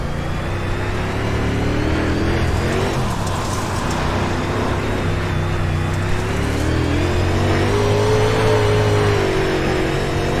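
A UMP modified race car running laps at Weedsport, its engine droning steadily with rising and falling pitch as it circles the track, loud and continuous, no voices.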